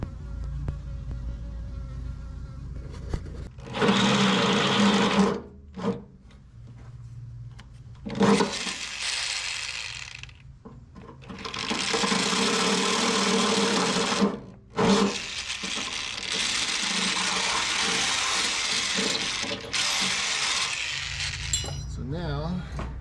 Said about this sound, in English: So now we just have to get these holes drilled.